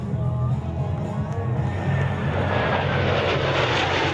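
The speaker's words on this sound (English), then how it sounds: "The Blue Angels headlined as they performed unimaginable maneuvers." Blue Angels jets roar through maneuvers at an air show, a broad sustained engine rumble that swells toward the end, with a crowd murmuring faintly underneath.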